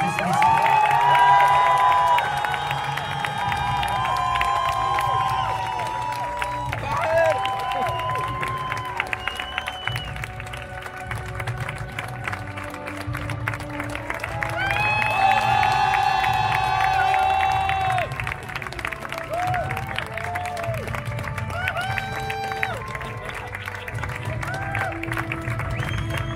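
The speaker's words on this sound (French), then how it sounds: "merci d'applaudir comme il se doit les cast members de l'attraction" A crowd at the closing night of the Armageddon special effects attraction at Disneyland Paris, cheering, whistling and applauding loudly and steadily for over twenty seconds beneath music and shouting voices.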